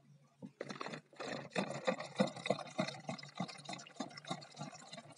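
A homemade infusion of St John's wort and oregano is poured from a bottle into a container, making a close, continuous splashing and gurgling stream that lasts several seconds.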